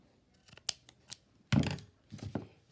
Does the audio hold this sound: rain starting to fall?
no